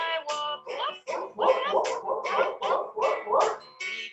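A dog barks and yips repeatedly in quick bursts on an outdoor walk, fairly close and loud, the sounds running together in an uneven rhythm with no talk over them.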